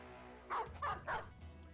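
Three quick barks from a war dog in the tactical battle game Battle Brothers, evenly spaced and fairly quiet over a low steady game background hum.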